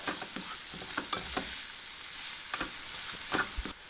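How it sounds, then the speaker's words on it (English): Finely chopped red onion sweats in a hot pan for Goan spicy prawns, giving a steady close sizzle with occasional stirring scrapes and no talk. "it's now time to add 1 red onion, finely chopped. And you need this to sweat and get to that glorious pink color"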